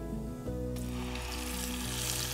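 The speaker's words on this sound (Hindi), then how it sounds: "अब हम इस प्याज को सिर्फ गोल्डन ब्राउन कलर आने तक मध्यम आंच में भूंज लेंगे।" Ground onion fries in hot oil with nigella seeds in a pan over medium heat, giving a steady, close sizzle that runs unbroken throughout.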